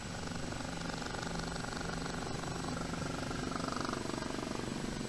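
A helicopter in the DCS flight simulator churns with a constant rotor drone and a high whine, held at a steady moderate level for the whole stretch with no talk.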